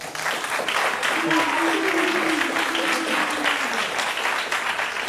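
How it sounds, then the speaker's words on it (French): A studio audience on a French-language talk show applauds steadily for the full stretch, with a voice audible over the clapping. "Franchement, applaudissez."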